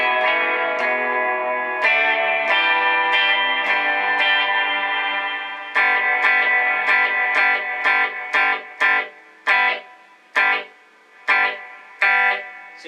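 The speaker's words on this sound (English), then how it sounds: "Now this is full volume on reverb, or full control on reverb," An electric guitar through a Marshall MG100 HDFX amp and 4x12 cabinet, reverb at maximum, plays chords drenched in heavy reverb, each strum ringing out with a long washy tail before stopping, then short stabs with echoing decay.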